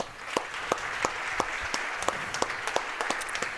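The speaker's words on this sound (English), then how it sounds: "please give a round of applause for all of the seniors on the Corry girls basketball team" At a girls high school basketball senior night in a gym, the crowd applauds the seniors with continuous clapping and a few sharper, louder claps standing out above the steady wash.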